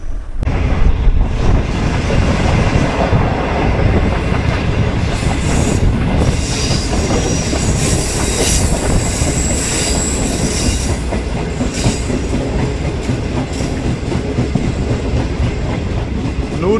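Greenline Express passenger train running on rails as it enters a junction, heard from inside a carriage as a loud, steady rumble of wheels on track with recurring clicks and faint wheel squeal throughout.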